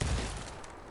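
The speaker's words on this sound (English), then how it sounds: "We both threw a grenade in there" A grenade explosion in a shooter video game, one loud low burst at the start that rumbles and fades over a second, with no talk.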